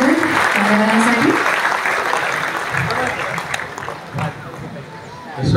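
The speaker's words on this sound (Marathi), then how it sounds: "जरा जोरदार टाळ्या वाजवतो मान्यवरांसाठी." An audience at a state-level award ceremony in Solapur claps loudly and steadily, with a voice speaking over the start of the applause.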